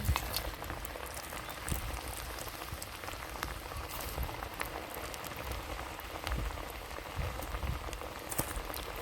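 Potato chops fry in hot oil with a steady, fine crackling sizzle full of tiny pops, fairly faint and continuous throughout.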